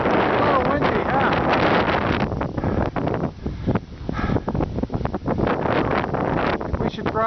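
Strong wind gusting on a mountain, buffeting roar and microphone rumble that is heavy at first and then comes in bursts, with someone talking intermittently over it.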